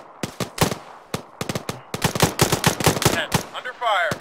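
Arma 3 video game gunfire: sharp automatic bursts and single shots crack out in a fast, uneven rhythm, loud and close, with brief pauses between volleys.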